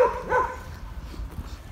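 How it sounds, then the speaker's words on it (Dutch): Young retriever-type dogs at an outdoor shelter yard give two quick, faint barks at the start, then only low background rumble remains. "Het zijn van die prachtige, een beetje retrieverachtige honden, van die jonge honden."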